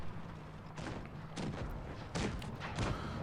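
Tank gun shots in the mobile game World of Tanks Blitz, from a Chinese tier 8 WZ-112-2 heavy tank: about four moderately loud thumping blasts spread at irregular intervals over a steady low game background.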